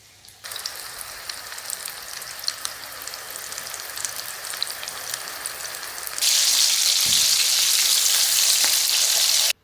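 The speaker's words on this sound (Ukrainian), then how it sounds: "І смажу на середньому вогні" Close, steady sizzling of chicken mince patties frying in a pan over medium heat, crackling throughout and growing noticeably louder and hissier partway through.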